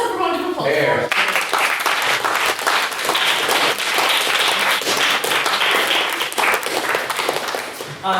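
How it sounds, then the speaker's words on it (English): Audience at a debating-society motion on Stormont's collapse bursts into loud, sustained applause lasting several seconds, a dense wash of many hands clapping, with brief voices or cheers at the very start. "Let's have a round of applause for him"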